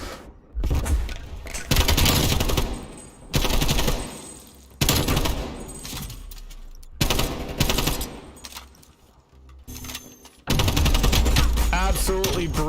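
Gunfire in a competitive GEC League shooter match: dense bursts of automatic fire in heavy rapid volleys, broken by short pauses and booming hits, loud and close, with a caster talking over it.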